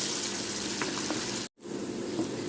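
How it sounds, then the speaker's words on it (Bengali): Onions fry lightly in a pan with cloves, white cardamom, bay leaves and black peppercorns, giving a steady, even sizzling hiss that drops out for an instant midway, then resumes. "দিয়ে পেঁয়াজটাকে হালকা করে একটু ভেজে নেব।"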